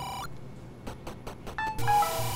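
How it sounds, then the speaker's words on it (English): A mobile phone gives a short electronic tone, then a few soft taps, followed by a brighter run of beeping notification tones near the end. "That's my phone."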